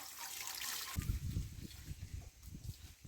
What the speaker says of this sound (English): since they are sheltered, they don't get rain, so I have to water them from time to time.